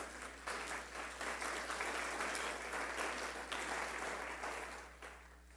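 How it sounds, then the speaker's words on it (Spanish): Steady applause from a church congregation, a continuous patter of clapping hands that swells slightly and fades toward the end, with no voices over it. "Le pueden dar un fuerte aplauso al Señor Jesús"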